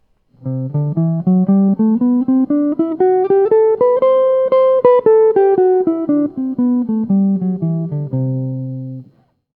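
A rapid run of single melodic notes in the Phrygian mode climbs steadily, peaks, then descends back down over a sustained dominant 7 sus flat 9 chord, each note clearly picked in an even rhythm.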